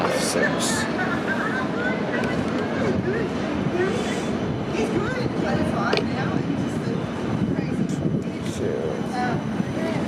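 A Transdev CAF Urbos 3 tram, running an off-service test at Parramatta Square, moves through with a continuous mid-level rumble and squeal amid busy street ambience, with voices talking throughout.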